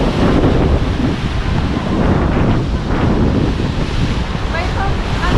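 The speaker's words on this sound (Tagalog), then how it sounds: "Lakas ng alon, guys." Strong ocean waves near a pier at Paburias, a loud continuous roar of surf churning under heavy wind buffeting the microphone.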